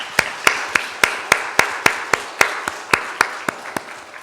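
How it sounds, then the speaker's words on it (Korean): A church congregation claps in unison at a steady, even beat, around fifteen sharp, crisp claps in a row with brief quiet gaps between them. "이분들에게 여러분이 빨리 회복할 수 있도록 용기를 주는 박수 한번 하겠습니다."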